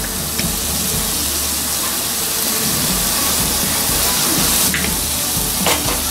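Half an onion and a spoonful of minced garlic fry in a hot pan for homemade Hamburger Helper, making a loud, steady sizzling hiss with scattered crackles close by.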